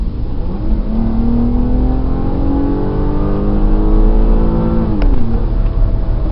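A 2002 Land Rover Freelander SE accelerates hard, its engine note climbing loud and steady from inside the cabin, with a brief shift near the end and no talking.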